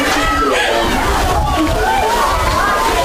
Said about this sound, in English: Or getting the crowd fired up